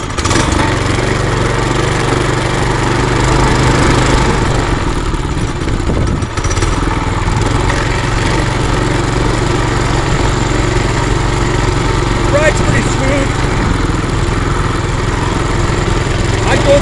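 A 2022 red Trail Master MB200 mini bike running while ridden, a loud, steady, buzzing small-engine drone with rattling clatter and wind rush, holding nearly constant throughout, close to the mic.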